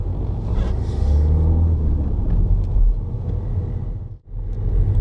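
A learner car pulls away in first gear on a narrow road, its engine a steady low rumble with a brief dip near the end before the drone resumes, heard close up from inside the cabin with no talking.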